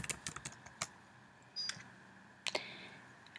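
A password is entered on a Mac keyboard: a few faint, crisp key clicks tapped close by in short uneven clusters, with quiet gaps between them.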